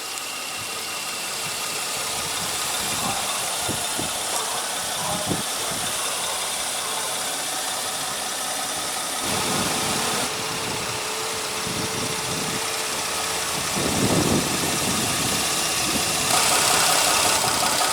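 A 2016 Kia Sedona's 3.3-liter V6 idles steadily under the hood, a smooth mid-range hum with faint ticking and a slight swell near the end, no voices.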